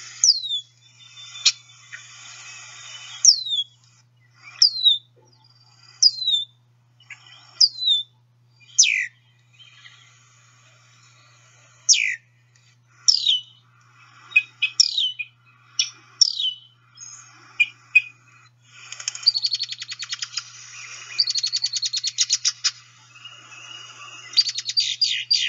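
A songbird from the blackbird, cardinal and finch group gives a series of sharp, separate chirps with short pauses between them, clear against a quiet background, ending in a faster run of buzzy notes.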